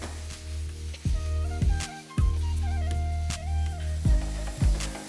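Chicken seasoned with salt, turmeric and Kashmiri chili powder sizzles in a hot pan while being stirred, with a steady fry hiss broken by several heavy scraping stirs.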